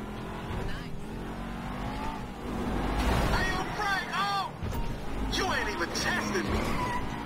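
A car in the GTA V video game drives and revs, with engine roar, shifting pitch sweeps and tire noise running throughout, loud and continuous, while someone talks over the gameplay.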